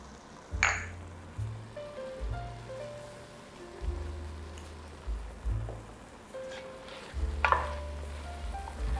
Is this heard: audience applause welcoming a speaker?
no